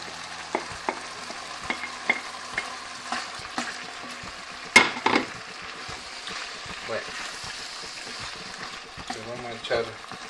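Sweet paprika and chopped tomatoes sizzle and fry in a pan with cod, with a steady low sizzle broken by intermittent stirring scrapes and clinks close by.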